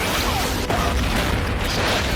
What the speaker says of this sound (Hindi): अगले ही पल जोरदार धमाका हुआ और शार्क वहीं खत्म हो गई।